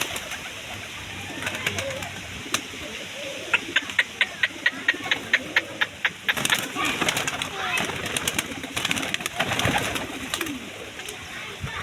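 Pigeons coo loudly and close by among a flock, with a quick run of sharp rhythmic taps in the middle and people's voices in the background.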